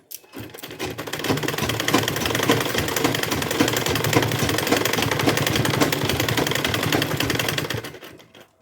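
Sewing machine stitching a zipper onto a handmade cloth organizer bag, running in one continuous, close, rapid clatter that starts and stops cleanly, with no talk.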